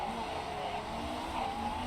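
Race car engine noise drones steadily during a pit stop in the motorsport management game Motorsport Manager, a continuous mechanical whine at moderate level with no talk over it.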